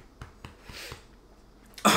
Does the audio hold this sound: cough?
yes